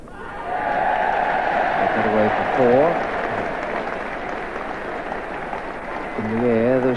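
A cricket crowd at an England versus New Zealand Test match in 1983 applauds Ian Botham's single. The clapping is a broad, steady wash that rises and falls. A commentator talks over it in several bursts.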